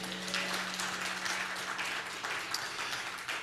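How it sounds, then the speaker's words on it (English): A church congregation claps for God in a room, dense steady applause filling the space throughout with no voices over it. "Give God a hand clap."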